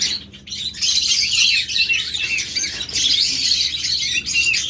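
Lovebirds and budgerigars chirping together in a cage, a dense, continuous stream of high tweets and squawks from several birds, close and fairly loud throughout.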